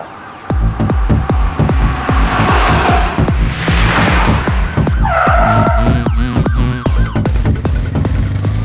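A car speeds away in a Hindi action film chase, its tires skidding and squealing in a loud, rapid pulsing burst over a steady engine roar, with no voices.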